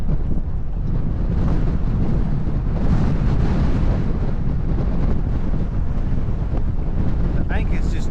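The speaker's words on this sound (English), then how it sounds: "but it is pretty windy." Strong wind on the Curdies River buffets the microphone in a constant loud roar, with a brief clatter near the end, while fishing from an anchored boat.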